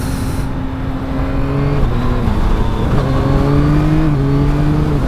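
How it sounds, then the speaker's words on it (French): A 2024 Yamaha MT-09 motorcycle accelerates hard, its engine tone climbing in pitch and then dropping abruptly with quick-shifter gear changes, repeating several times, loud and close with strong wind noise. "si vous m'entendez passer les rapports beaucoup, c'est parce que je suis en train de tester ce nouveau système de quick shifter"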